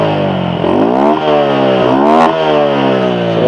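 Drag-race set-up motorcycle engine running with no air cleaner, revved hard and loud up close, a raw rasping roar that climbs and dips in pitch through repeated throttle blips.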